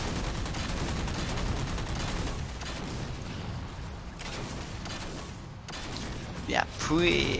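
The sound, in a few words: gunfire in the video game Halo on Ragnarok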